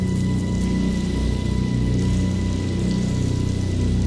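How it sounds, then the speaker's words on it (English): Rain falls steadily as a dense, even patter that fills the whole stretch, with a faint tonal drone beneath and no voices. "That night, it began to rain, but more like a heavy dew than a rain."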